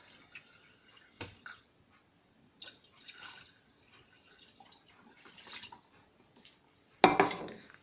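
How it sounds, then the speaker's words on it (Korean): Water poured into a blender jug while making Korean acorn jelly (dotorimuk), heard as sparse drips and splashes with light clinks, ending in a louder splash near the end. "믹서기에 물을 붓겠습니다"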